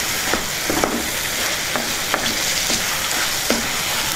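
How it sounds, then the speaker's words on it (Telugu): Tomato pieces and turmeric frying in a pan for an Andhra bottle gourd stew, a loud, close sizzle with a few spaced scrapes of a spoon stirring through. "వీటిని ఒకసారి బాగా కలుపుకుందాం"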